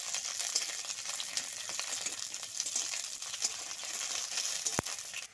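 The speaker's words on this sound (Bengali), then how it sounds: "রসুন আর কাঁচা লঙ্কা একসঙ্গে ভেজে নেবো হালকা করে" Garlic and green chillies frying in hot oil, a soft continuous sizzle with faint stirring taps and one sharp click near the end, quiet and without talk.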